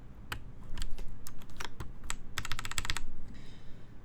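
Mechanical keyboard fitted with thin DCS keycaps being typed on, with bursts of crisp clacky keystrokes in quick irregular runs, close and clear with no talk.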